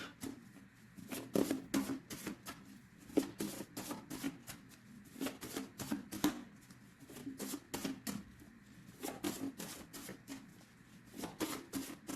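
Tarot deck being cut and handled, soft repeated card slaps and shuffling rustles in irregular bursts, close and fairly quiet, with no talking.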